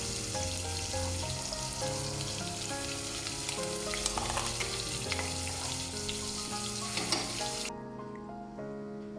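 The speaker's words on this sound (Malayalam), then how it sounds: "ഇനി ഒരു പാനിൽ വെളിച്ചെണ്ണ ഒഴിച്ച് കൊടുത്ത് അതിലേക്ക് 2 ഉള്ളി പേസ്റ്റ് ചെയ്തത് ചേർത്ത് കൊടുക്കാം." Onion paste frying in hot coconut oil in a pan sizzles steadily and loudly. Faint tonal background sound runs underneath, and the hiss thins out near the end.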